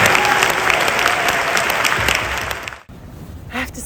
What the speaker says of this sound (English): one last round of applause for the volunteers.